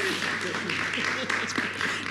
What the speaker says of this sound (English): You can clap. I know some people want to. Get your claps out.